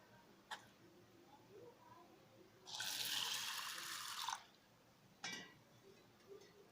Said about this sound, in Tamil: முதல்ல பருப்பு கழுவிக்கலாங்க